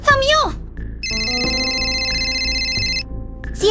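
A phone rings in the Sakura School Simulator game, a steady electronic ringtone that sustains for about two seconds between bursts of a high, animated voice speaking before and after.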